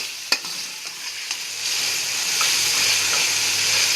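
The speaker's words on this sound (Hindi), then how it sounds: "ये देखिए अब हम इसमें मटर भून रहे हैं" Peas fry in hot oil for vegetable fried rice, a steady close sizzle that swells louder, with a few scraping stirs near the start.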